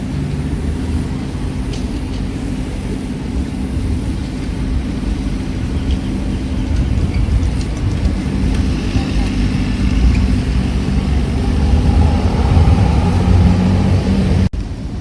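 A grass-cutting vehicle that mows evenly and collects debris gives a steady, droning engine rumble that runs the whole time, rising slightly toward the end before a sudden cutoff.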